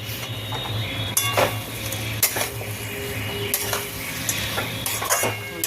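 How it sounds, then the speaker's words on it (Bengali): Chicken pieces are stirred in masala in a pot, with a steady low sizzle under repeated metallic scrapes and clinks of a spoon against the pan. "এবার আমি চিকেনের সাথে ভালো করে মশলাটা কষাবো"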